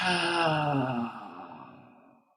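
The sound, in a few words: releasing a held breath, exhale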